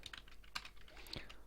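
Quiet computer keyboard typing while coding a Java game, a close, soft cluster of irregular key clicks with a voice faintly present underneath.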